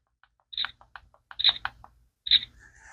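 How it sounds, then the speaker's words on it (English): Several sharp mechanical clicks from a PaperShoot camera shutter button in small clusters, crisp and close, separated by brief silences. "if you hold the button down a couple times or keep clicking it"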